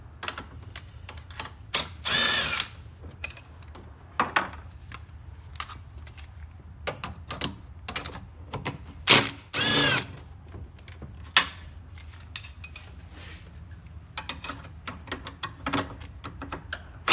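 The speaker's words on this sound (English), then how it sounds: "remove the four 15mm bolts here that hold the upper motor mounts on" A power tool removes the four 15mm bolts holding the upper motor mounts on a Pontiac Grand Prix GTP, short close whirring bursts separated by clicks, clanks and quiet handling.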